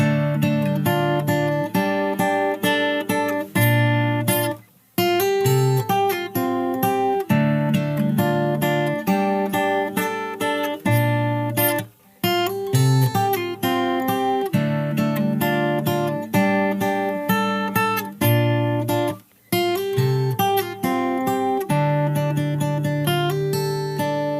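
Plucked acoustic guitar played fingerstyle, chords and melody ringing together at a steady pace, with a few brief pauses between phrases.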